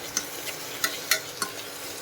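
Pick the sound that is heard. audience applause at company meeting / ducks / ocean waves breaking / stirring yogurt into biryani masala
stirring yogurt into biryani masala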